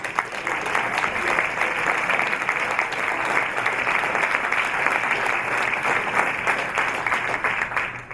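A high school audience at a program event breaks into a steady, dense round of applause that holds loud and even for about eight seconds, with no one talking.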